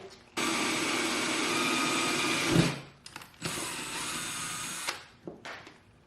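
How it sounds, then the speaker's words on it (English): A number 31 jobber drill bit bores a hole in a fastener repair job, the drill whining steadily at close range in two long bursts with a short pause between them and brief trailing spurts at the end. "Next, we're going to use the number 31 jobber bit, drill ourselves a hole."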